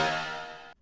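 Gritty, buzzy synth horn from a stock Serum preset, one sustained harmonically rich note held alone for most of a second, then cut off abruptly.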